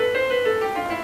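A synthesizer keyboard tuned to just intonation plays a scale, a sustained bright tone stepping gradually between pitches at steady moderate loudness, heard alone with no voices.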